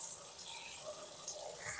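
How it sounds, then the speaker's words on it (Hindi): Pressurised water sprays into two holes inside a washing machine during home servicing, a steady hissing gush that is faint and continuous with no talk. "इसके अंदर प्रेशर से पानी मारना है इन दोनों सुराखों में"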